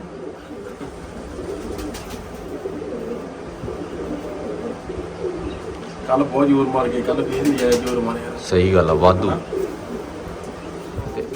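Pigeons coo in a low, throaty rumble under ongoing Punjabi talk, with a couple of louder cooing bursts near the end.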